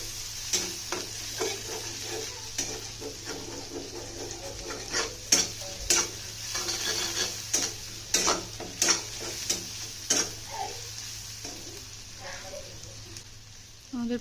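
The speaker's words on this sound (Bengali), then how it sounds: "পেঁয়াজ কুচিটা দিয়ে ভালো করে পেঁয়াজটাকে ভেজে নিব।" Chopped onions fry in a pan for a fish curry, a soft steady sizzle punctuated by regular spatula scrapes and taps as they are stirred, close and moderately quiet.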